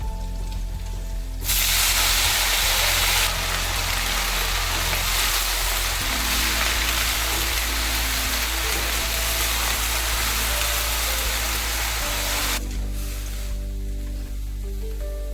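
Mint leaves sauté with garlic and chilli in a hot pan, a loud broadband sizzle that surges in after a quiet start, holds steady over a low hum, then drops away near the end.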